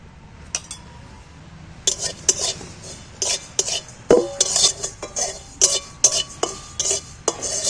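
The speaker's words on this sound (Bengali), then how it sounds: "গোটা জিরে কোড়ায় একটু ভেজে নেব শুকনো কড়ায় ভেজে নেবো" Whole cumin seeds are dry-roasted and stirred in a dry kadai, with a spoon or spatula scraping and clinking against the metal in a brisk, irregular series of close, bright knocks.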